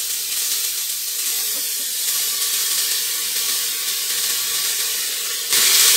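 Cauliflower tipped into hot oil with cumin in a pressure cooker gives a loud, continuous sizzle and hiss, close up and unbroken, brightening sharply at the very end.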